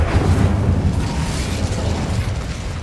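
The Confringo explosion spell in Hogwarts Legacy goes off as a dense, rumbling blast that holds steady for a few seconds, loud and close, with no voices.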